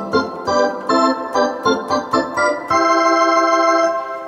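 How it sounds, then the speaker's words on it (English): Wersi Helios organ plays drawbar tones through a fast rotary Leslie simulation: a run of short chords gives way to a long sustained chord, with a shimmering, warbling swirl throughout, loud and close. "So here's what the drawbars sound like on the fast rotary."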